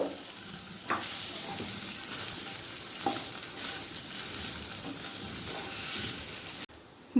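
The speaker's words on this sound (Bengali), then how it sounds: "তেলের মধ্যে আমি দিয়ে নেব পনিরটা পনিরটা হালকা করে ভেজে নেব" Paneer cubes lightly frying in oil, a continuous moderate sizzle with a few sharp stirring clacks, ending in an abrupt cut; nobody speaks.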